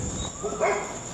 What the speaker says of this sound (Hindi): ये पहले नहीं भौंक रहा, कुत्ता डरा है।